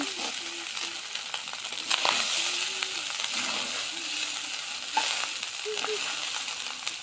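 Cooked rice stir-fries in hot oil in a pan, a steady crackling sizzle broken by occasional scrapes and clatters as it is tossed and turned.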